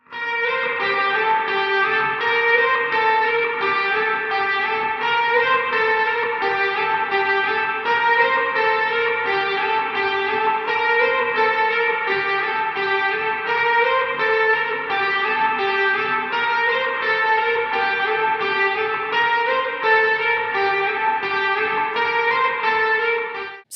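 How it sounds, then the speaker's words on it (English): Electric guitar intro drenched in big spacey reverb from a Universal Audio Golden Reverberator, sustained chords ringing loud and continuous for over twenty seconds without talk. "I actually had a whole reverb setting in the Golden Reverberator to give us that big spacey sound"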